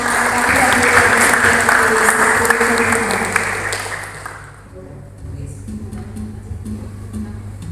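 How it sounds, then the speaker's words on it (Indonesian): A school audience claps for student dancers who performed a traditional dance, a full burst of applause for several seconds that fades out, leaving a quieter room with a low hum and faint background voices. "Tepuk tangan untuk teman-teman."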